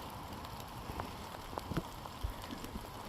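Rain falls through a British Columbia rainforest during a winter walk, a soft, steady patter broken by scattered closer drips and taps, with no talking.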